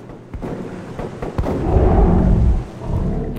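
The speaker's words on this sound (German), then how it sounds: "Da hinten schießt wer." Gunfire in the video game Metro: Last Light rings out from a distance as a few dull, booming cracks, the first ones sparse and the later ones more spread into a rumbling wash, with no talk.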